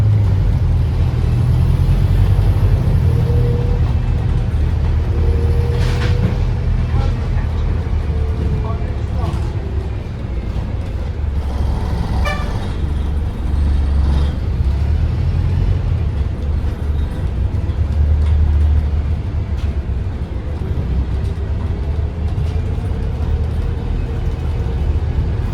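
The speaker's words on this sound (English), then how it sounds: "I'm waiting for my bus to arrive" Street traffic rumbles steadily and loudly nearby as a bus arrives, with cars and heavy vehicles passing throughout and a person talking over the continuous road noise.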